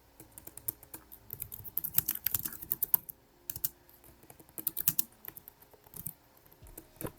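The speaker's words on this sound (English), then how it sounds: "you guys are feverishly typing" Several students type on computer keyboards in a classroom, with quick bursts of clicky keystrokes that come in uneven clusters and short pauses, close and fairly quiet.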